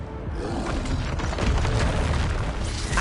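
The Incendio fire spell cast in Hogwarts Legacy, a dense, continuous roaring burst of flame and magic, loud and sustained across the moment.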